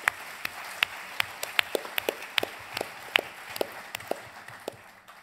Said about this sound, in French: Et avec une mention spéciale et des applaudissements spéciaux, si vous voulez bien, pour Monsieur Andrew Cottrell